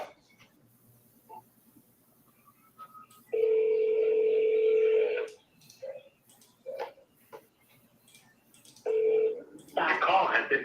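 A phone call being placed: keypad dial tones, then two long ringback tones separated by short beeps, with a voice speaking in between.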